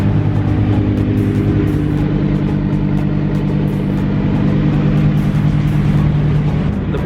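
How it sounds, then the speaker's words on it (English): Lamborghini Huracan engine in a parking lot, a loud continuous low idle rumble holding steady throughout without revving. "We have a Lambo you've never seen on the channel before."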